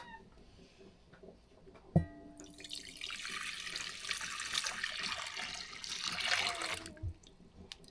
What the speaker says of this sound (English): we're going to pour this juice back into our bowl